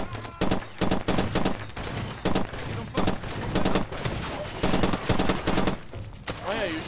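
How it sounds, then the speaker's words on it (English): Bursts of automatic and single gunfire from the Far Cry 2 video game crackle in rapid irregular volleys, loud and close, with a brief swooping electronic tone near the end. "Why are you shooting me from a different angle?"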